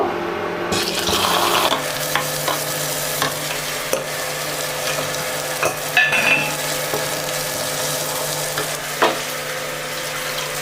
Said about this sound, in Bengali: কড়াইতে তেল দিয়ে দিয়ে দিয়েছি তেলটা গরম হয়ে গেছে মাছটা প্রথমে ভেজে নেব